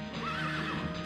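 A horse in Shin Megami Tensei III: Nocturne HD Remaster on PS4 lets out a single loud, close whinny that rises and wavers for about a second.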